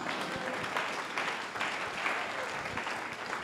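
A church congregation applauding together during a French-language sermon, a dense, steady wash of clapping that runs throughout with no one talking over it.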